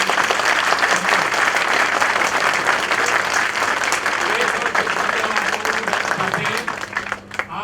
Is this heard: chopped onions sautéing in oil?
no